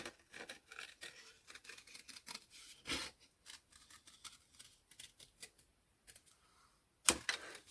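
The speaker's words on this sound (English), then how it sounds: "I am going to cut that flag off." Scissors snip through card in a series of short, quiet, crisp cuts at an irregular pace, with a sharper louder snip near the end.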